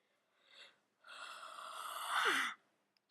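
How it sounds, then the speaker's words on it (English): A person's yawn rises into a long, breathy, voiced exhalation that swells and then fades, preceded by a short faint breath, heard close and alone with no talking. "Sorry for yawning."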